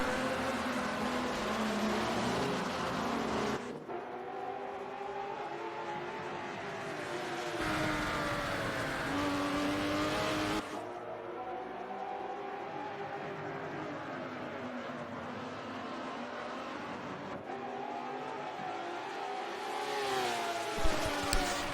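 GT race cars at Sonoma in a racing game, a continuous droning engine whine that rises and drops in pitch as gears change, steady and fairly loud throughout with no talk.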